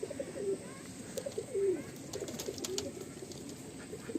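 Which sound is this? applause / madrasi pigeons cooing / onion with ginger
madrasi pigeons cooing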